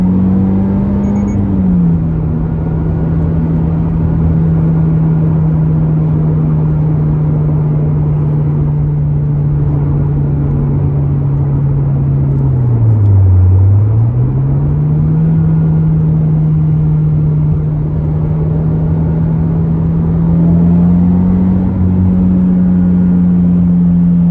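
A 2023 Toyota GR86 fitted with a new exhaust hums at a steady, loud idle heard from inside the car. The drone stays low and even, with one brief dip in pitch midway before it settles again.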